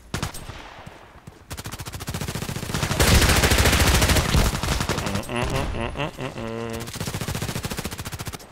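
Rapid automatic fire from an H&K MP5k in Contract Wars, long loud bursts with short pauses, and a patch of talking partway through.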